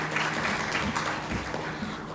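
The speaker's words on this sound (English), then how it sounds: "Can we please have a round of applause for him?" A crowd applauds steadily at a stroke conference panel in a hotel in Ahmedabad, a soft continuous patter of many hands clapping at a moderate distance.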